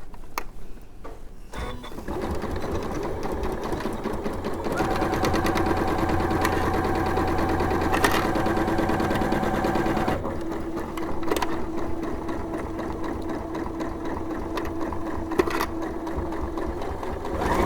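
A sewing machine stitches straight seams along three sides of a fabric bag at standard stitch length, whirring in steady, rapid runs that start, pause briefly and resume, close and clear with almost no talk.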